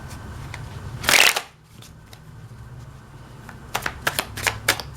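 A 1970s printing of the Rider-Waite tarot deck is shuffled near the mic: one loud riffling burst, then a quieter stretch and a series of short crisp card flicks and taps toward the end.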